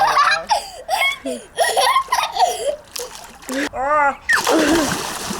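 A person jumps into an outdoor swimming pool with a loud splash near the end, preceded by excited children's laughter and giggling, with voices talking throughout.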